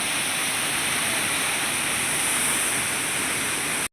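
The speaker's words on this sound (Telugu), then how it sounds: "చూడండి పైన వచ్చి పారుతున్నాయి వాటర్, సూపర్గా ఉన్నాయి ఫ్రెండ్స్." Water pours steadily down a waterfall at an adventure park in Seethampeta, a loud, continuous broadband rush close by with no break and no voices.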